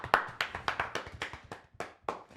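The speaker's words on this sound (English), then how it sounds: "I think a round of applause is in order" A few podcast hosts clap to celebrate a marathon personal best, close-up, distinct hand claps in an uneven rhythm of roughly eight claps over a couple of seconds.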